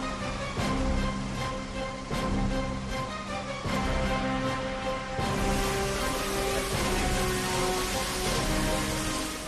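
Heavy downpour during flooding in Madhya Pradesh, a dense, steady hiss of rain and running water filling the scene, with tonal background noise and a few soft thumps underneath.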